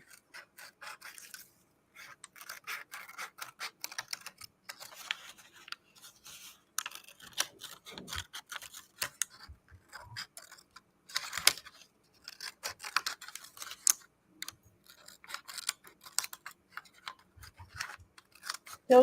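Scissors snip and rasp through a paper template in short irregular bursts of cutting and rustling, close and fairly quiet, with brief pauses between cuts.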